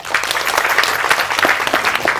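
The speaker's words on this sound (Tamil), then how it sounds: "அவருக்கு ஒரு கைத்தட்டி தட்டலாங்க" Audience applause at a Tamil public speech event by Master Mahendran and Jaguar Thangam: a dense, steady wash of many hands clapping, loud and continuous throughout, with no speech over it.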